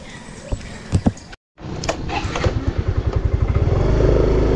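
Motorcycle ridden toward Boundary on an errand run in the Philippines, its engine revving up with a low, steadily rising drone and a rhythmic pulse that grows louder, after a brief cutout and some earlier clatter.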